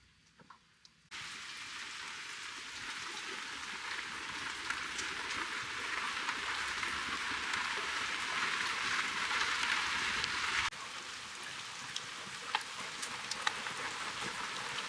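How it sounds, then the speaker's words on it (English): Steady rain pattering down in a heavy downpour of about 50 millimeters, a dense constant hiss of drops after a brief quiet start, with a slight change in texture partway through. "50 millimeters of rain."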